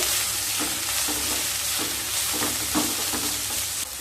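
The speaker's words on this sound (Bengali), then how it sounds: "দু থেকে তিন মিনিট সবজিটাকে হাই স্টিমে ভেজে নিতে হবে" Vegetables with green chillies, peas and a tomato stir-fry over high heat for restaurant-style Hakka noodles, a constant loud sizzle broken by regular scraping strokes of a spatula against the pan.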